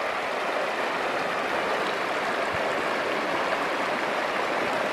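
A river in the Uinta mountains rushes steadily, a dense, continuous broadband wash of flowing water with no pauses, close and fairly loud throughout.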